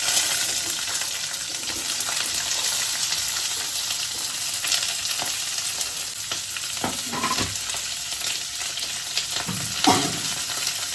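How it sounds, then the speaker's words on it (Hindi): Onion and green chillies fry in a pan with a loud, steady sizzle heard close up, with a few stirring scrapes and knocks near the end. "हरी मिर्च मेरी हो गई है, अब मैं इसमें डाल रही हूँ प्याज।"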